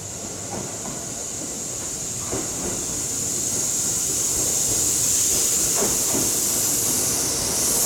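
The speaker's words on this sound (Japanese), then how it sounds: "4番線に大和八木行きが6両編成で参ります。" Six-car Kintetsu Osaka Line 5800 series local train bound for Yamato-Yagi pulling into Goido station in the early morning, a steady rising hiss and rumble with faint rhythmic wheel clicks as it draws closer and louder.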